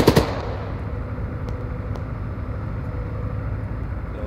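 Rifle fire in the military shooter Arma 3: a quick burst of sharp shots opens, followed by a couple of fainter distant cracks over a steady low background rumble.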